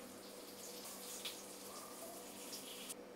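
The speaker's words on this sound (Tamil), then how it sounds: "இது கூட புளி கரைச்ச தண்ணியை ஆட் பண்ணிக்கோங்க" Tamarind water pours steadily into a pot with a soft splashing hiss, close up, lasting a few seconds with occasional small clinks.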